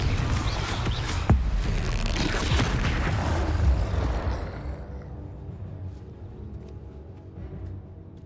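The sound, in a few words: Confringo spell explosion in Harry Potter video game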